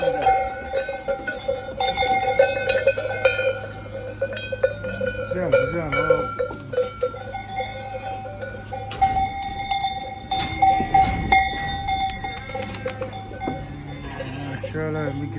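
Sheep bleat repeatedly while being bathed, clanking bells ringing steadily throughout, with occasional voices talking nearby.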